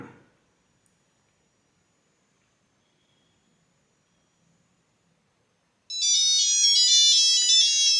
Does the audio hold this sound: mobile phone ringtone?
yes